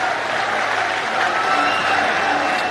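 A crowd at a public ceremony in Jodhpur claps steadily in a dense, continuous wash of applause greeting the chief minister, with no pause across the short stretch.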